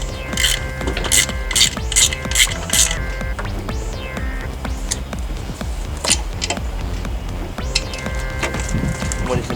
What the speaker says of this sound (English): so I decided to get a ratchet instead of a spanner.